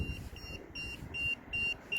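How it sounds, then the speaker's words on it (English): A handheld radiation detector beeps in a quick, steady series of about six short high tones beside a 5G installation in London, over a low rumble of background noise. "When it starts beeping, that means it's harmful."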